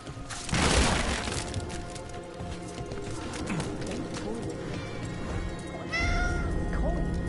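A cat meowing in the video game Dragon Age: The Veilguard, several clear meows rising over game ambience and footstep-like clopping, with a louder burst of noise near the start.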